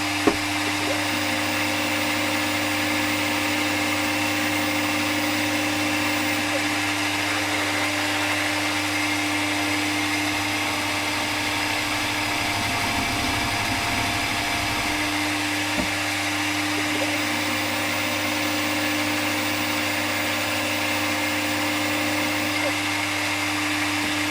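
A power drill whines steadily for a long stretch, a constant motor hum with slight shifts in pitch as it works, close and fairly loud.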